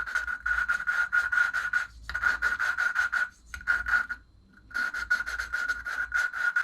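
Lapping a valve on a Predator 212 engine with grinding compound makes close, rhythmic rubbing strokes in quick repeated bursts, broken by two short pauses, with no talking.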